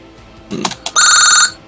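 A telephone rings once: a few short electronic chirps, then a bright, trilling bell-like burst held for about half a second before cutting off, loud and close with no voices.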